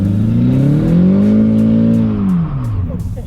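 An Audi A4 drift car's engine revs hard at full throttle, a loud, close roar climbing and holding high before dropping away near the end.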